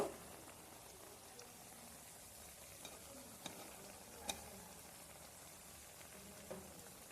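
Bora fritters frying in hot oil, a soft, steady crackling sizzle at low level with a few sharp pops, no talking.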